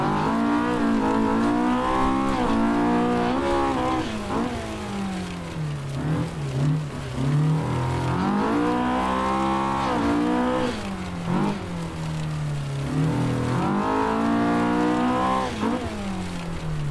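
A Honda K20 race car engine in Assetto Corsa, loud and close, revving up through gears in repeated rising sweeps with brief drops between shifts, no talk.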